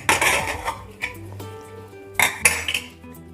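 Metal pots and lids clank and clink close by as a depressurized pressure cooker of veg biryani is opened, a few sharp knocks with ringing tones in between, no talking.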